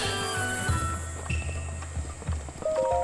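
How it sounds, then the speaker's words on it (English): A horse in Zelda: Breath of the Wild runs with steady rhythmic hoofbeats under continuous game music, a close, moderately loud clip-clop lasting several seconds. "Get on the horse."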